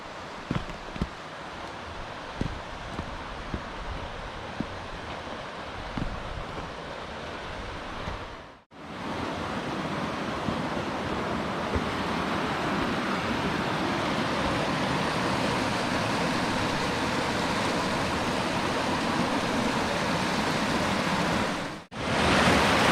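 Constant rushing water fills the scene, a broad steady wash of flowing sound with a few faint knocks early on and two brief cut-outs.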